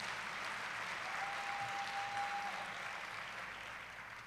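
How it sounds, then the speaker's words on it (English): Audience applause at a community awards ceremony, a soft, even wash of clapping from a crowd heard at some distance, fading slightly toward the end. "let's give ourselves a round of applause"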